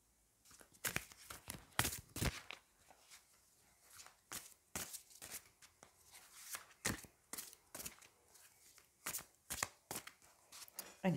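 Tarot cards of the Marseille deck being shuffled by hand, a string of quick papery riffles and slaps in uneven bursts, close and fairly quiet, with no voice over them.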